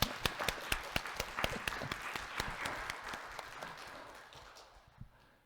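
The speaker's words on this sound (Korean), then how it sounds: "우리 다시 한번 박수로 격려할까요?" A Korean church congregation applauding during a worship service after a dance performance. The claps are steady and fairly faint, with sharp individual claps standing out, and they gradually fade toward the end.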